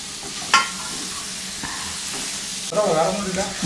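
Potatoes dropped into sizzling red masala in hot oil for a Nepali curry, a sharp splash-hiss followed by continuous frying crackle and stirring scrapes, close-up, with a louder burst of sizzle near the end.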